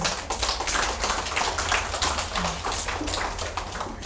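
A small audience at a cosmetics product presentation claps in a quick, steady patter of overlapping hand claps, sustained for a few seconds at moderate loudness.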